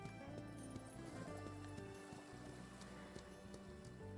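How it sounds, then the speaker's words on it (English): Hooves of a young horse clip-clop steadily in the Rivershine ranch game, a continuous walking rhythm sitting under layered game music and ambience. "I probably should not have brought this young horse who's gonna continuously walk away from me."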